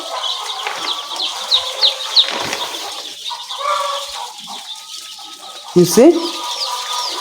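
Layer chicks peeping inside a brooding house, a busy flock of high thin chirps with flapping and fluttering, fairly close, while someone speaks briefly over them.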